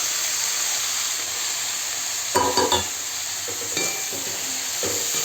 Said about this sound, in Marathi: चणा डाळ आता घालूया कोबी चिरलेला।